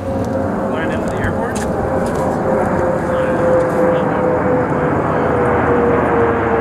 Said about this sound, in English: Ooh, look at that jet.